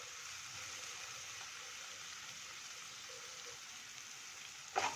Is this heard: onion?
yes